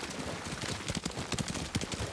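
Horse hooves clip-clopping in the video game Ghost of Tsushima, a steady run of muffled, uneven hoofbeats under a dense wash of ambient noise.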